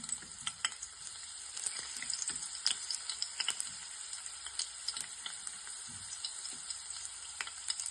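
Garlic cloves frying in hot oil over a low-to-medium flame, a quiet steady crackling sizzle full of fine pops, close but faint, with an occasional soft stir and no talking.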